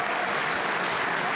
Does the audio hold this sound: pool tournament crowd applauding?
yes